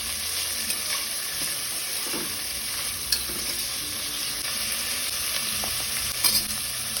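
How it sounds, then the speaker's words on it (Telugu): Beans, onions and green chillies fry in a pan with a strong, constant sizzle, with a few soft clinks and scrapes from stirring scattered through it. "బీన్స్, ఉల్లిపాయలు, పచ్చిమిర్చి బాగా వేయించుకోవాలండి."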